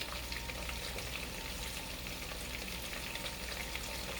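Smoked sausage fries in a pan, giving off a steady, even sizzle that holds at a constant level throughout, with no voices.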